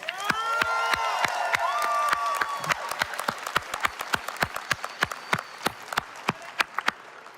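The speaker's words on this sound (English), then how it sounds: "please give them a round of applause" Graduates at a graduation ceremony applaud their family and friends, crowd clapping with a few cheers and whoops that thins into scattered individual claps, then a handful of sharp, slowing claps at the end.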